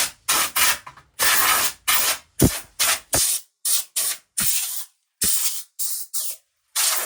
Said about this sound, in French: Le petit coup de soufflette, ça c'est important, ça enlève vraiment toutes les merdes.